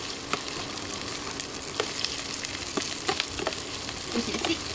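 Sliced onions and red bird's-eye chillies sizzle and crackle steadily in hot oil while being stirred, a close, continuous frying hiss scattered with small pops and spatula scrapes, with no talking.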